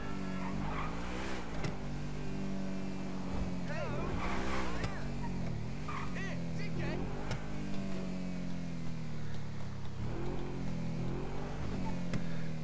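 An Opel 9F Cabrio in GTA Online drives with a steady, continuous engine drone that rises and falls in pitch as it shifts and steers, and a voice talks over it throughout.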